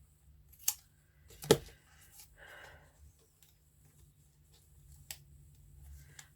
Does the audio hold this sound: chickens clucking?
no